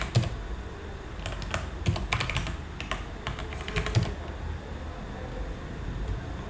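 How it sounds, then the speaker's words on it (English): Someone types on a computer keyboard at a coding desk, with quick bursts of close clicking and brief pauses, then the keys fall quiet near the end. "Now I can smoothly type stuff"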